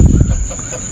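Five KUB hens and one rooster clucking close by in a simple backyard coop, with soft, irregular calls over a steady insect-like hum throughout.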